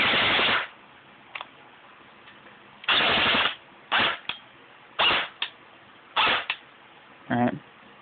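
A G&G CM16 Raider airsoft gun fires in close, loud bursts of rapid mechanical buzzing, some long and some short, separated by quiet pauses and a few single clicks.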